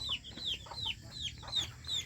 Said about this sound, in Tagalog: Ang dami yung manok